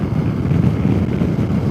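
Loud wind buffeting batters the microphone while riding a motorcycle, a continuous low rumbling roar, close and unbroken throughout.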